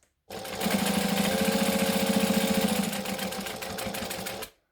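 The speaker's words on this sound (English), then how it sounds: "I'm just going to base this down along the bottom" Along the bottom edge of a pocket on a Minifacto bag, a sewing machine bastes in one steady run of about four seconds that picks up a faster, rougher rhythm near the end, where it back stitches.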